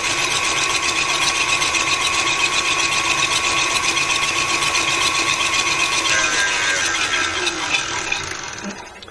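A steady high-pitched electric mixer whine runs continuously while combining lemon chiffon sponge cake batter, slowing slightly near the end.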